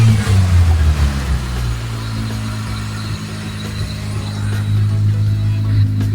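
A Honda Civic engine idling steadily after its carburetor was cleaned, a loud close low rumble that starts slightly higher and settles into an even drone.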